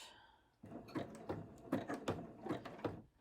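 A sewing machine back stitching fabric strips for a rag rug runs in short rhythmic bursts of close mechanical clatter, starting after a brief quiet moment and continuing in repeated pulses.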